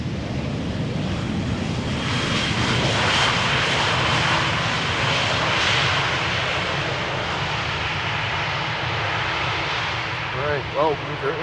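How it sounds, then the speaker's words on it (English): An EasyJet Airbus A319 airliner arriving at Schiphol produces a loud, steady jet engine roar that fills the whole stretch with broadband rumble, with no talking over it. "EasyJet A319 arriving from Geneva."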